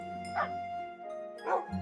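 A small dire wolf puppy in the game Tensura Reincarnated gives two short, faint yips about a second apart, high and whimpery over a quiet tonal game backdrop.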